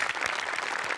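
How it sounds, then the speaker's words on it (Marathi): Applause from a comedy show's studio audience after a performance on Maharashtrachi HasyaJatra, a dense steady patter of many hands clapping at once, filling the whole second with no voices on top. "सो अमोल पाटील आणि सचिन मोठ्यानं सुद्धा टाळ्या वाजल्याच पाहिजे"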